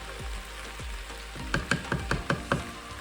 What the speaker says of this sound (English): we're just going to stir it a little bit so it is all nice and mixed